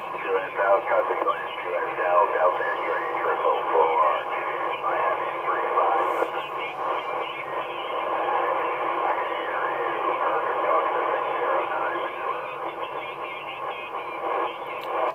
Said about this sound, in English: I've got an awful lot of noise on the frequency as well, Drew.